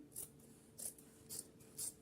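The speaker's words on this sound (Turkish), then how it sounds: "Kenarından makasla keseceğim." Four quiet, evenly spaced snips of scissors cutting the edge of fabric for a small cushion, each a short crisp rasp separated by brief pauses.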